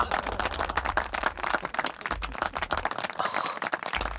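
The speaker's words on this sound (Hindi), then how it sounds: "तालियां।" Group of people clapping in a Hindi action film, a dense, steady patter of hands lasting several seconds with a low rumble underneath.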